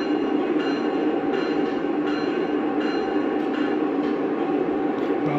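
A CSX diesel locomotive in its shutdown sequence produces a steady low rumble and hiss with faint periodic clanks, heard continuously at moderate distance with no talking.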